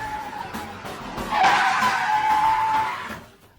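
A borrowed car skids with a drawn-out tire squeal under a clumsy, inexperienced driver, loud and close, swelling in the middle and fading out at the end with no talk.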